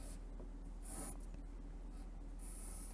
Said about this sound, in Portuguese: Então, eu já vou fazer uma figurinha aqui.